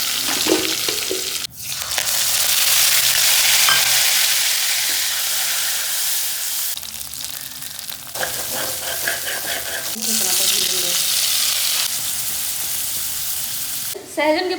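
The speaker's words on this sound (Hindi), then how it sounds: "अभी मसाला भूनते टाइम दिखाऊंगी कैसे तेल छोड़ता है।" Masala frying in oil in a pan, a loud continuous sizzle with bursts of stirring and scraping, broken by brief pauses, close to the pan.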